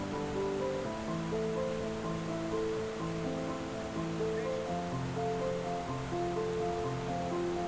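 A waterfall pours into a small pond at a remote spot, a steady full rush of splashing water that fills the whole stretch without pause, with soft tonal hum lying beneath.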